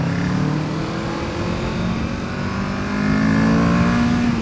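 A Kawasaki Ninja 650 (2020) motorcycle engine revs up steadily, its pitch climbing quickly as it accelerates, loud and close with no voices.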